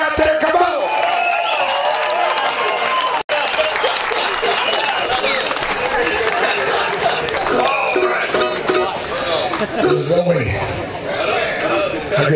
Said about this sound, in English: How about give yourselves a hand?